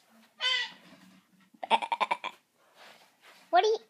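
Sheep bleat in a few separate, quavering calls from close by, with short pauses and quiet stretches between them.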